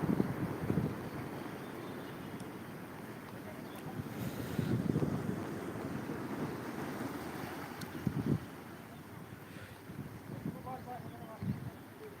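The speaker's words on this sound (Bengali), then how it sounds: "দারুণ ঢেউ দারুণ ঢেউ বন্ধুরা" Ocean waves break on the shore in repeated swells, each surge rising and falling over a constant wind-blown wash, with rough wind noise hitting the microphone throughout.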